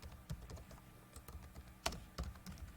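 Computer keyboard typing a router configuration command: quick, close, soft key clicks in an uneven rhythm with brief pauses, fairly quiet and alone.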